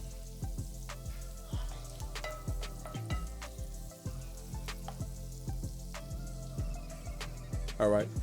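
Sausage cooks in a pan with garlic and vegetables for seafood rice, a soft continuous sizzle broken by clicks and taps of a utensil stirring, fairly quiet and close.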